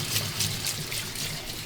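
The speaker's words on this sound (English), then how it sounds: "make sure to wash with the cold water" Cold tap water runs steadily into a kitchen sink, a close, continuous hissing splash with slight fluctuations and no voices over it.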